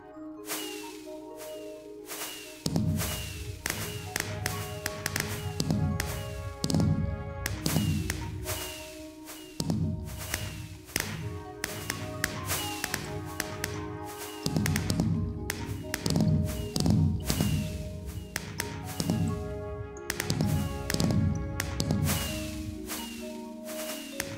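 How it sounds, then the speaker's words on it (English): Fireworks display built in Minecraft fires off in a rapid, fairly loud series of thumping launches and crackling pops, the bursts coming in quick rhythmic clusters over a steady game backdrop with no voices. "Here's the test of the fireworks display."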